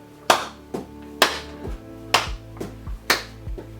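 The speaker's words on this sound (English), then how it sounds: "you might be able to just bring the leg up sufficiently to clap underneath them" Sharp hand claps made beneath a raised leg during a seated exercise routine, about six distinct claps spaced roughly half a second apart, close and clear with a low thud accompanying several of them.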